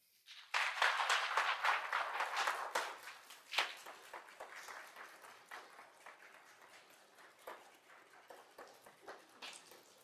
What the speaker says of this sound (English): people are standing up and clapping